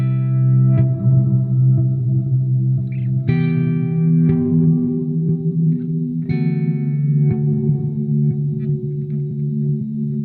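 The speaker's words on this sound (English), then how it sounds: "If I turn the space up, this is the reverb you get with it." A sustained synth chord swells and shifts every few seconds, its notes smeared into a dark, washy reverb tail from a Microcosm effects unit that lingers under each new attack.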